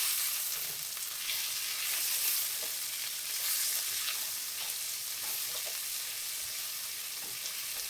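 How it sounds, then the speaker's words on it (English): Onions frying in oil and butter in a pan for Japanese curry, with a steady crackling sizzle throughout and soft scraping strokes of a spoon stirring them, close up and without talk. "So we're gonna stir our onions. We want our onions to get nice and coated in all of that oil."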